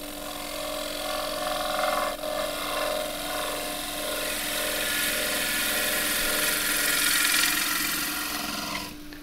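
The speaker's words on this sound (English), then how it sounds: "I could do that with a scraper, but I'm going to get a better cut with the gouge." A gouge cuts a wide-rim box-elder wood bowl spinning on a lathe. The motor hums loudly and continuously, with a whooshing cutting tone that swells and fades as the tool moves across the wood.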